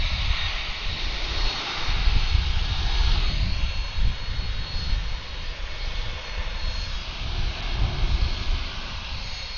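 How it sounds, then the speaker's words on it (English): Delta Airbus A350 jet arriving at Atlanta airport gives a sustained loud roar that swells and fades slightly, an outdoor rumble of engines with no voices. "Our A350 just arrived from Incheon, Seoul,"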